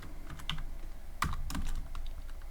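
Keys clacking on a computer keyboard, a short run of close, crisp keystrokes in an uneven rhythm, with no talking.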